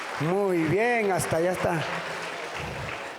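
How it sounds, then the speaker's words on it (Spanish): A church congregation breaks into applause, a soft broadband clapping that rises under and after a man's brief spoken line and continues to the end. "Hasta ya está uno fuerte aplauso por aquel que está sentado a la esquina."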